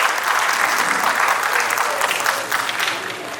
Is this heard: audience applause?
yes